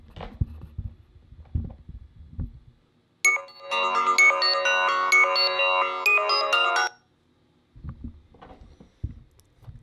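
An HTC One smartphone ringtone blasts at full volume from its speaker, a bright, dense melodic tone lasting about three and a half seconds, set between stretches of quiet, thumping handling noise.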